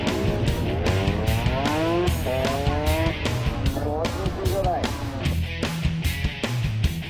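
A Suzuki DRZ400SM motorcycle works a Moto Gymkhana course mostly in first gear, its single-cylinder engine revving up and down in quick rising and falling bursts, close and loud, with voices over parts of it.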